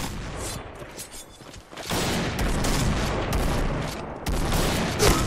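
Video-game gunfire from a PGM Hecate II sniper rifle: a loud, dense run of sharp, booming shots that fills the whole stretch, with the densest firing in the second half and no talking.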